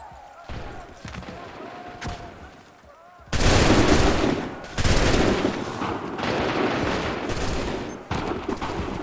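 Musket volleys from soldiers in Assassin's Creed III crack out in loud bursts, dense rolling fire after a quieter stretch, with shouted commands heard between and under the shots.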